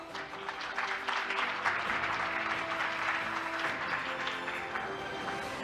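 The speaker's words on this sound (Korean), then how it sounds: "박수로 맞이해 주세요." Welcoming applause from a seated audience at the opening ceremony of an Arctic cooperation week, greeting the Minister of Oceans and Fisheries, Moon Seong-hyeok; steady, dense clapping that holds evenly for several seconds with faint tonal hum beneath.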